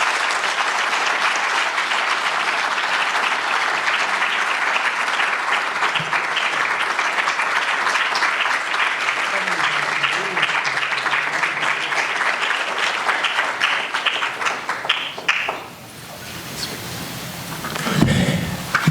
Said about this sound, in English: please join me in giving a big round of applause to Dr. Shashi Tharoor